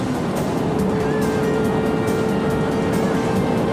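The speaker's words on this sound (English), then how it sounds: "bury the throttle, and see what Italy's finest can do" Italian sports car with the throttle buried at high speed in sixth gear: a loud, continuous engine roar with rushing wind and road noise, sustained throughout.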